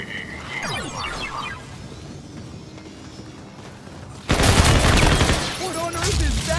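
Video game gunfire in a zombies mode set in a space-themed park: bursts of rapid shots burst in loudly partway through after quieter game sounds and a voice.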